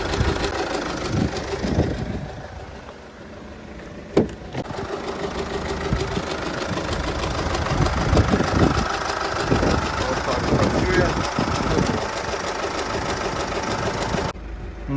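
A 2017 Opel Zafira engine with about 150,000 km idles steadily up close under an open bonnet, with a low uneven rumble and occasional clicks and knocks from the engine bay, an extra noise audible as revs drop after warm-up.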